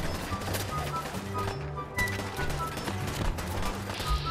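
Gunshots in the video game Fallout 4, a sustained rattle of rapid automatic fire mixed with sharp single cracks over a rumbling game backdrop, with brief speech underneath.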